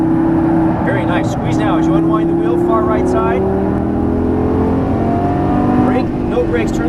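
A Lamborghini Gallardo Superleggera LP570-4 engine pulls steadily on a track, its rising tone building under continuous instructor talk throughout.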